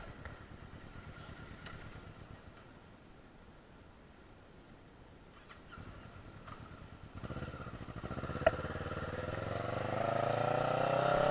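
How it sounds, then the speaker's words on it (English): A motorcycle on a monsoon ride near Lonavala idles quietly at first, then its engine revs up and climbs steadily in pitch and loudness toward the end. "Rishal will be riding my bike, Naomi."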